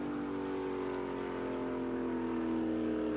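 Drag race cars launch together off the line at the 1976 Gator Nationals, giving a loud, steady, close engine roar that swells slightly over a few seconds.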